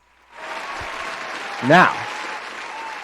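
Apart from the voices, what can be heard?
applause sound effect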